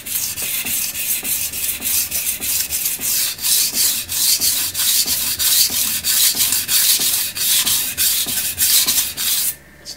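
A knife is stroked across a coarse Suehiro Debado whetstone in a quick, even series of gritty rasping passes, close and fairly loud, with no voices.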